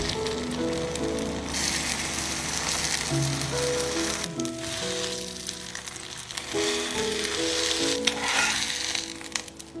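Egg frying in a non-stick pan makes a close, crackling sizzle that fades and swells, with scattered pops and a few faint scrapes, while soft background music plays beneath.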